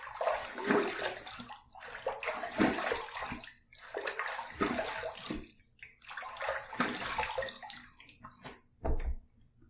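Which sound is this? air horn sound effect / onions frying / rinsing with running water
rinsing with running water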